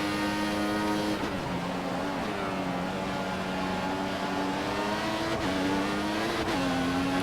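An F1 car on prime tyres in the F1 2014 video game at the Spanish Grand Prix, its engine droning loud and continuous with brief dips and rises in pitch at gear shifts.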